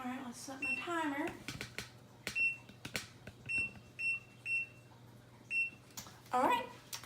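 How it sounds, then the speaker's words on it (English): Kitchen timer being set while muffins go into the oven, giving a series of short, evenly spaced electronic beeps, close and clear, with a person talking briefly at the start and end. "let's set my timer."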